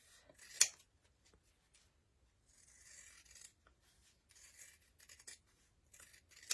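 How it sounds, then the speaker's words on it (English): Quiet, close scissors snipping through paper in short, irregular cuts while a leaf shape is cut out, with soft rustling between the snips and no voices. "I'm just going to cut out my leaf"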